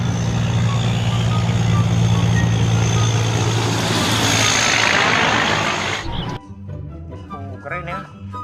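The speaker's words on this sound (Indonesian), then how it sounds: "Truk kontainer lagi." A large container truck's engine drones loud and steady at close range for about six seconds, with a high whine over it, then cuts off abruptly, leaving a few faint clattering sounds.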